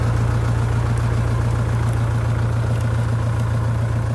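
A Lovol 354 tractor pulling a seedling planter in a cabbage field runs with a loud, steady low engine drone and constant vibration, close and uninterrupted, with no talk.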